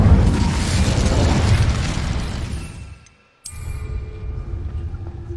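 An Incendio fire spell cast in Hogwarts Legacy, a loud roaring whoosh of flame that fades and cuts to near silence, then a sharp burst as a second blaze flares up.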